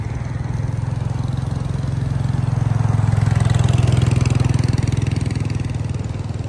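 A JCB construction vehicle's diesel engine runs nearby with a loud, steady, throbbing rumble that swells slightly midway as if revving gently, then settles back, with no voices over it.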